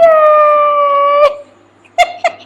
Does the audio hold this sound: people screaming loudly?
no